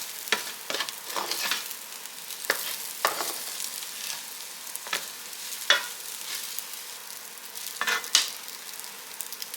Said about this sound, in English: Once your egg starts getting scrambled, you want to take it and just mix it in with the rice and veggies.